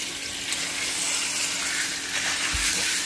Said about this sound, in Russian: Сковородка разогрелась, высыпаю фарш.